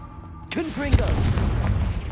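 A Confringo blasting spell goes off in Hogwarts Legacy with a sudden loud burst followed by a rumbling, crackling blast that lingers; a voice calls out over it.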